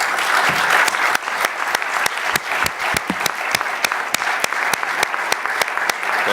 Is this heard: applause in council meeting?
yes